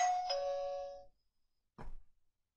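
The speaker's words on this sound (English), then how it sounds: "so it makes that ding dong sound" An Ezviz doorbell chime sounds a two-tone ding-dong, the first tone ringing out for about a second, then a short, duller second tone after a pause.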